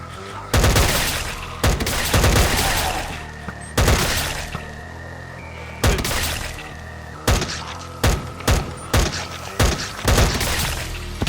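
Rapid bursts of gunfire from a turret in the video game Minecraft Cursed Walking come in repeated loud volleys, with sharp separate shots toward the end and people talking over them.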